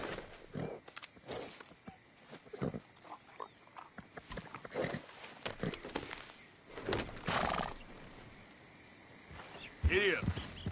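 A horse in a PlayStation 4 video game neighs and snorts while its hooves clop along, the whinny rising near the end. The sounds are close and fairly quiet, with scattered noises around them.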